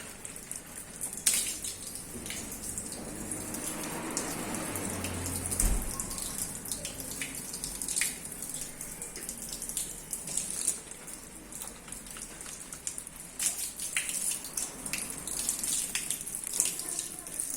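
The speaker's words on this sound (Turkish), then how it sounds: "Camlara da su gitsin." Water sprays onto windows while flowers and panes are washed down with a hose, a steady hiss and patter of water that swells and fades across the clip, fairly close.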